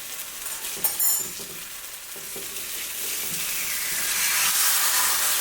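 A vegan Just Egg omelette frying and sizzling in a pan, a steady crackling hiss that builds slightly louder toward the end, with a few brief stirring or scraping touches early on and no talk.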